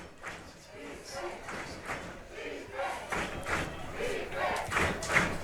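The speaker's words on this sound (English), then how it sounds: "this crowd's charged up tonight, aren't they?" A charged-up night crowd at a college football game roars and chants in rhythmic surges, with a nearby commentator talking over the noise.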